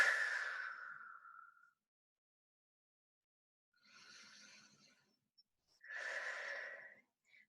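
Two slow, deep breaths taken in child's pose during a shoulders and back fitness class, a long airy exhale first, then after a pause a softer breath and a fuller one, close and quiet with no talking.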